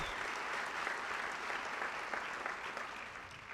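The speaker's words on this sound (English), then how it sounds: "let's give a little round of applause for that." Audience applause at a youth soccer club's senior night, a steady, even wash of clapping from a crowd, fairly distant and soft, continuing throughout without talk.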